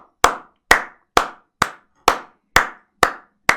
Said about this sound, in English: can we get a round of applause for the doggo?